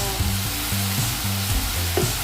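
Chicken browning in a pan before the petsay goes in, a loud close sizzle with rhythmic scraping and stirring strokes throughout.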